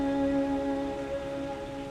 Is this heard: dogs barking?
no